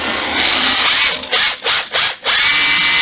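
Secondhand Japanese cordless screwdriver drill running on its battery during a load test, a loud steady whining motor that briefly cuts out and spins back up three times before settling into a continuous run.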